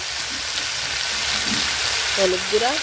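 Cauliflower fries with salt and turmeric in a pan, a steady broad sizzle close by, with a brief voice at the end.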